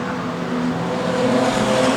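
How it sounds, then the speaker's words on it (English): Street stock race cars roar down the back straight in a drag race, a loud, sustained engine drone that swells slightly as they pass close by. "It's a drag race now down the back straight"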